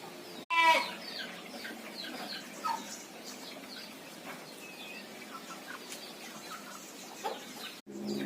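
A mother hen nesting in a staghorn orchid with her freshly hatched chicks gives soft, scattered clucks close by, quiet and intermittent against a faint outdoor background.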